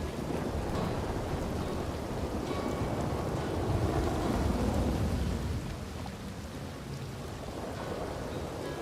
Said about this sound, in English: Oh, the rain coming off that awning right there?